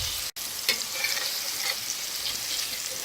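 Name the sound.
meatballs cooking in a pan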